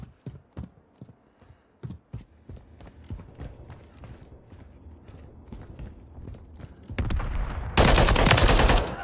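Gunfire in Call of Duty Modern Warfare 3: sharp, evenly spaced shots, then a dense, loud burst of rapid fire near the end, with no talking.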